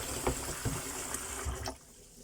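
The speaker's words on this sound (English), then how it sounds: "you just keep adding water and throw the dirty one away until everything is clean" Water poured and sloshed over rice being rinsed in a bowl while making Nigerian jollof rice, a close, steady splashing with a few louder pours before it cuts off near the end.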